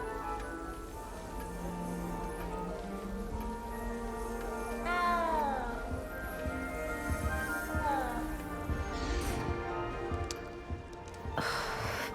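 A cat meows a few times inside a Hogwarts castle setting in a video game, rising and falling calls heard over a steady background ambience and faint voices.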